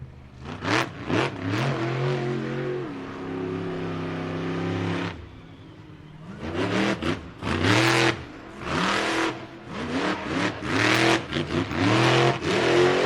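A monster truck engine at a speedway show revs hard in repeated roaring bursts, pausing briefly before surging again, loud and close.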